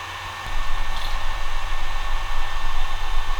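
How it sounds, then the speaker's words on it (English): The cooling fan of a Lorex NR9082 network video recorder whirs steadily with a broadband hiss and low hum, close and continuous, with no talking. "The decibel rating on this fan is 30 decibels."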